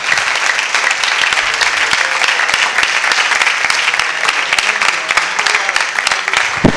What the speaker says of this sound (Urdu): تالیاں بجا دیجئے رب الافواج کے نام